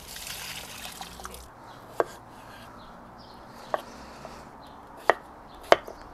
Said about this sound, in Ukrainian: Наріжу такими невеличкими шматочками, щоб вона максимально швидко зварилась.